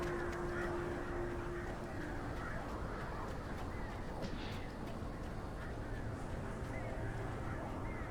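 Birds in the video game Alan Wake Remastered, heard as duck-like quacking and calls over dense, steady game ambience, moderately far and never standing out strongly.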